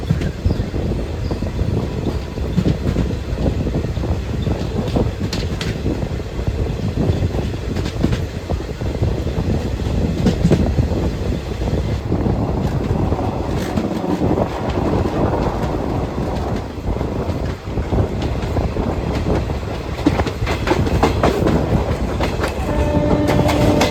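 A passenger train on a journey from Hyderabad to Bhimavaram, heard as a loud, continuous rumble and roar of wheels on rails with rhythmic clatter throughout, close and steady with no voices.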